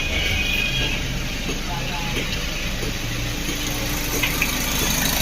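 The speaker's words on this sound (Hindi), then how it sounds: "देखिए फ्रेंड्स हमारा इंजन भी फिर से चल रहा है।" A Skoda Rapid engine idles steadily at close range just after a turbo replacement, a continuous low rumble with a faint whine, while someone talks over it.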